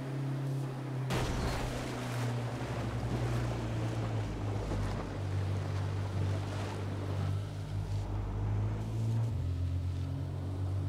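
A vehicle drives through water in the H1Z1: King of the Kill battle royale game, a steady loud engine drone with splashing and rushing water and wind noise throughout, no one talking.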